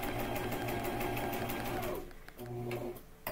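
A sewing machine stitches fabric for a cell phone holder stand, running steadily at a close, loud, even hum, then briefly pausing and restarting for a short backstitch run.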